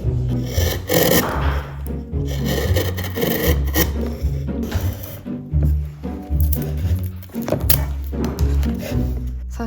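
Wood is carved by hand to shape a traditional Korean Hahoe mask. Close, repeated rasping cuts and scraping strokes come with occasional dull knocks in a busy, uneven rhythm.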